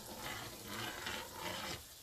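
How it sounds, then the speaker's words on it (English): Sugar syrup boils on the stove while semolina gulab jamun cook alongside, giving a steady broadband bubbling hiss with faint stirring, moderately loud and continuous, easing slightly toward the end. "While sugar syrup is boiling, keep stirring your Gulab Jamuns so they cook evenly from all sides."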